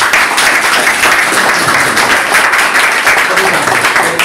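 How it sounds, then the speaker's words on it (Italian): Audience applause at an evening ceremony with a monsignor, organised by the Associazione Nazionale Carabinieri of Pozzallo; dense, steady clapping from a crowd fills the whole stretch at close, loud level. "a nome di tutti vi faccio un applauso"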